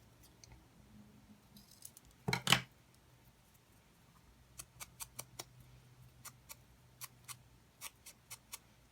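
Small sharp snips from a paper trimmer or scissors cutting a card edge, one louder burst followed by a string of quick, quiet, evenly spaced clicks close by.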